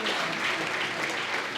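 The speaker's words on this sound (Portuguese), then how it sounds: "Você pode aplaudir ao Senhor?" Church congregation clapping in praise during a Portuguese-language service: a brief, even wash of many hands applauding, moderately quiet and steady.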